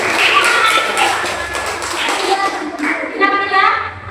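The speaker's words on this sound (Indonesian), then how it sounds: "Masa nggak ada yang tepuk tangan?" Children at a Sunday school storytelling session clap their hands in loose, uneven bursts, close and loud, mixed with taps and shuffling while young voices chatter over it.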